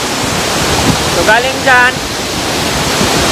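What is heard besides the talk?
Lundbreck Falls waterfall rushing water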